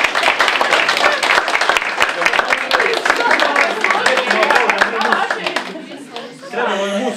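Wedding guests clap for the bride and groom at a wedding ceremony in Đurđevik: dense, close, rapid applause from many hands, loud and sustained, then tapering near the end as voices take over.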